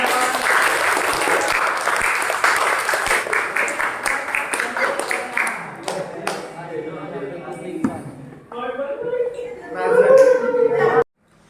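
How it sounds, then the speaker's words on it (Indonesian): A classroom of students applauds a student group after an Islamic studies presentation, with dense clapping for about six seconds that thins into scattered claps before voices talk. "tepuk tangan buat kelompok 3"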